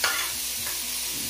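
Tomatoes and ginger stirred into pinakbet in a hot pan, giving a brief burst of sizzling and frying with quick stirring scrapes, close and steady, no voices.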